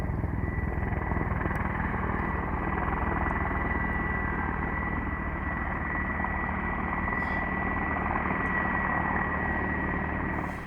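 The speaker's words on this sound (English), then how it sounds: "the helicopters and bombers climbed into the air for bombing missions" Military helicopters, including an Mi-35M, taking off at a Nigerian air base alongside bombers, a continuous loud rotor and turbine roar that holds steady throughout with no talk.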